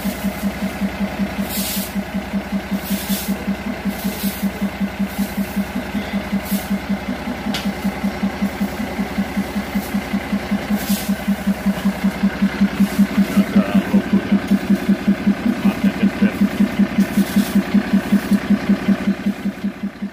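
A heavy Mercedes 2421 diesel truck engine idles steadily nearby, its low rhythmic throb continuous and loud, with faint clicks and hisses around it.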